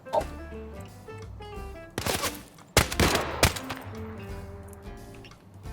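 Pistol fire in Arena Breakout Infinite: a few sharp, loud shots in a quick cluster mid-clip over a steady in-game background drone, with a brief crack before them.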